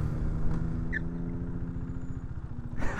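The engine of a 2019 KTM Duke 390 motorcycle thrums close and steady while riding, a rhythmic single-cylinder pulse with a brief rush of wind near the end.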